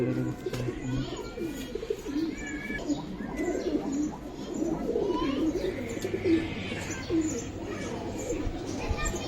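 Giribaz high-flying pigeons coo in a loft, a soft continuous chorus of low rolling calls with faint chirps and background rustle, heard without talk over them.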